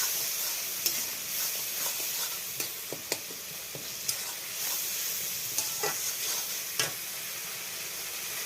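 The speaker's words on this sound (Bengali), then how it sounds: "দেখুন বন্ধুরা একদম টমেটো ঘেঁটে নিতে হবে" Tomatoes being mashed and stirred into a thickening gravy in a pan for a taro and spinach dish, with a steady soft sizzle and scattered scraping clicks of the spoon against the pan.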